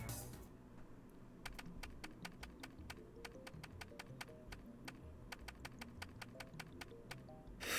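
Rapid keyboard typing in the Steins;Gate video game, a steady patter of crisp key clicks in quick bursts over a faint low background hum, with no voices.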